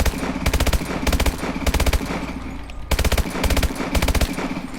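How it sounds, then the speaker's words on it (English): AMR9 submachine gun firing in burst mode in Call of Duty Advanced Warfare: loud, rapid bursts of shots in a steady repeating rhythm, each burst separated by a brief gap, no talking. "So this is how fast the regular AMR9 bursts."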